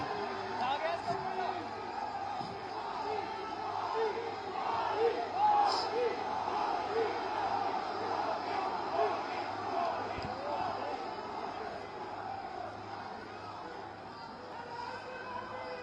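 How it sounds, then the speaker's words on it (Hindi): A large crowd at the RRTS launch event with Prime Minister Narendra Modi claps and cheers in a continuous, dense roar that swells in the middle and holds steady, with voices mixed through the noise. "आपकी तालियों की आवाज मंच तक आनी चाहिए, पूरे जोश के साथ आनी चाहिए"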